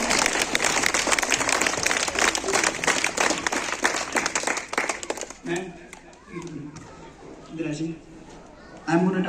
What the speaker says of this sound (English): Yeah, big clap for her.